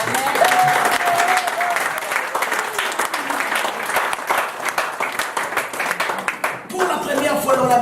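A church congregation applauding, a dense, loud wave of clapping that carries on for several seconds with voices mixed in and a brief dip near the end.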